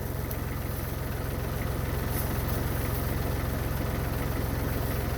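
A tractor engine idles steadily nearby, a low, even diesel-like rumble with a fast regular pulse that holds without change for several seconds, alone with no talk.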